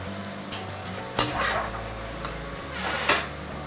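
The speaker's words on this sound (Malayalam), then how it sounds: "ബീട്രൂട്ട് ഫ്രൈ ആയി വന്നിട്ടുണ്ട് നമുക്കിത് കോരിയെടുക്കാം" Fried beetroot is scooped out of hot oil in a pan; a continuous low sizzle runs underneath while a slotted spoon gives a few close metallic clinks and scrapes against the pan.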